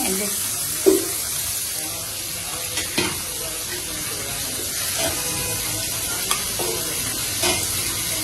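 Fish pieces sizzle in oil with garlic paste in a home kitchen, a soft, steady frying hiss broken by a few utensil knocks and clinks. A voice talks faintly over it at moments.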